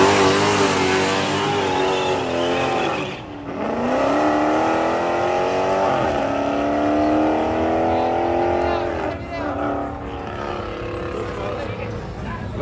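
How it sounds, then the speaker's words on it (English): Two Pontiac Trans Ams drag racing at Yello Belly Drag Strip, loud engines revving with rising pitch sweeps as they accelerate, continuous and close, with people talking over the roar. "We got 2 Trans Ams finna race."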